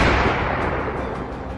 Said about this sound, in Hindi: और तभी गोली चलने की आवाज आई।